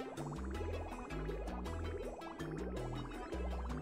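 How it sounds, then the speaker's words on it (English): Water pours into a geothermal heat pump in Oxygen Not Included, heard as a quiet, steady run of bubbling, rising glugging tones repeating in a regular filling rhythm. "Then fill the geothermal heat pump with 12 tons of water."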